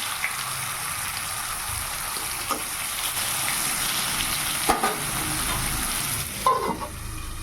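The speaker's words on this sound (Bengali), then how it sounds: "তো আর দেখো চাপালাম বেগুন ভাজা।" Eggplant frying in a pan in a home kitchen, a steady close sizzle with occasional stirring clinks and brief bursts of louder spitting, no voices.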